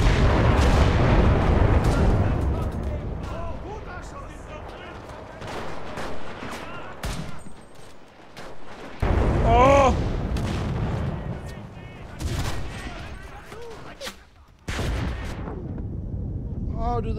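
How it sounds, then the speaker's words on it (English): Heavy booming blasts and rattling gunfire in the video game Enlisted roll through a dense, chaotic battle soundscape, loud and continuous with sharp bursts. "Well, the explosions are real, that's for sure."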